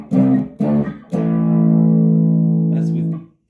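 Electric guitar through a Woman Tone FX overdrive pedal switched on, two short chord stabs followed by one long, thick, smoothly distorted chord that rings loud and steady before fading out.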